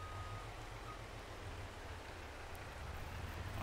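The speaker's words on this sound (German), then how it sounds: "Und es regnet." Rain falls steadily in the farming game Farming Simulator 22, a soft continuous hiss of drops with no breaks, faint and even throughout.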